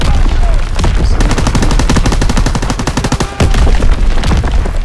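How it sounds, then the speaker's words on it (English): Incoming enemy artillery in the video game Call of Duty WW2: a loud, dense barrage of rapid blasts and cracks hammering continuously for several seconds, close and overwhelming. "Incoming enemy artillery"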